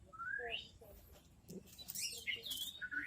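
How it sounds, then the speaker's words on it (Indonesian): A young magpie robin chirps faintly with thin rising and falling tweets scattered through the clip over a low background hiss. "Dan ini anakan kacernya"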